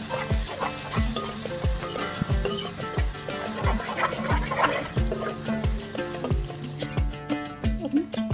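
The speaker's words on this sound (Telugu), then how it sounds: "అల్లాన్ని కూడా మంచిగా ఫ్రై చేసుకుందాం ఆయిల్లో" Ginger garlic paste fries in oil for a fish curry, with a steady sizzle under a regular series of dull knocking stir strokes against the pan, close by.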